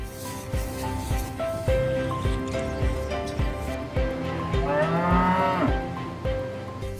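African cattle, prized as status animals and expensive bulls, moo in several low, drawn-out calls, close and fairly loud over faint background noise.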